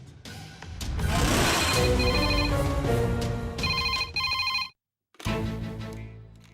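A household landline telephone rings loudly in a domestic scene from a Tamil TV serial, with repeated electronic bell trills that pause briefly before ringing again.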